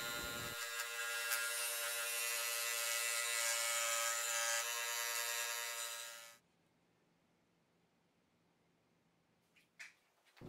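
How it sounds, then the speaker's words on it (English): A scroll saw cuts a wooden duck shape from a board, a loud steady mechanical buzz with rattling that runs for about six seconds and then stops, leaving quiet room tone and a couple of faint knocks. "cut out around the template using your scroll saw or a coping saw"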